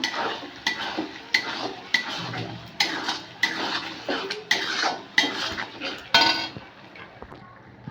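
A utensil stirs tomato sauce into food in a pan, giving repeated scraping and clinking strokes at a roughly regular rhythm, close and fairly loud, with no talk over it.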